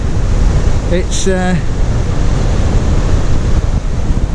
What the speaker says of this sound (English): when you look at those big waves